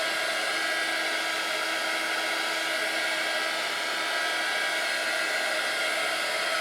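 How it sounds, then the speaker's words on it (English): A small heat gun blows a steady, even whir as it dries alcohol off inkjet image-transfer paper, sustained close up for the whole stretch with no talking. "I'm just going to take my little heat gun again. And this is going to take no time at all."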